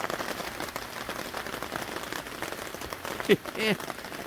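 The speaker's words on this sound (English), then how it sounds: "This is day 3. And it's raining again." Steady rain patters and hisses on a surface nearby, a constant wash of drops, with a brief voice near the end.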